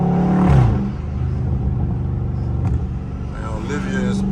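A Dodge Scat Pack in sport mode roars loudly from inside the cabin, a deep rumbling exhaust note that rises in a rev and then settles into a steady heavy drone, with voices mixed in.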